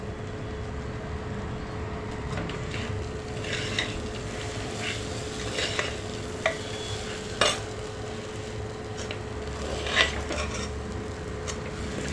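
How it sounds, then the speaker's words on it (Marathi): Steady low sizzling of rice sautéing with spices in a pan, with a few sharp metallic clinks of a utensil scraping and stirring, no voices. "एक दोन सेकंद परतून घेणार आहोत म्हणजे छान तांदळाला मसाला"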